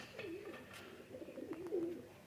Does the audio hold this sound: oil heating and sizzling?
no